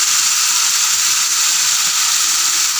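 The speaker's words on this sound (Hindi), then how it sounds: "ये मसाला हमारा फ्राई हो चुका है। अब हम इसमें फ़िश को ऐड करेंगे" Masala frying in hot oil for fish curry, just before the fish goes in: a steady, close, loud sizzle and hiss that holds evenly throughout with no voices.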